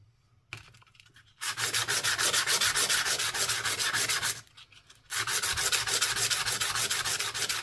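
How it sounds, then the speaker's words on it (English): Sandpaper rubs rapidly back and forth on a coin ring pendant, a close, raspy scratching in fast regular strokes, with two brief pauses between long runs. "Sandy the sandpaper"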